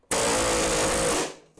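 An air hammer drives a rivet into a Ski-Doo REV GTX snowmobile tunnel during a brace-kit repair, a loud, steady buzzing burst lasting just over a second before cutting off.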